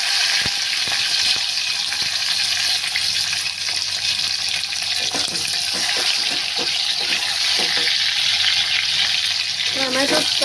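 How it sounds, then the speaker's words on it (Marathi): Tomatoes frying in hot oil with curry leaves for a mutton curry, giving a loud, steady sizzle throughout with scattered clicks of stirring in the pan. "आता मी त्याच्यामध्ये टॅमॅटो टाकणार आहे."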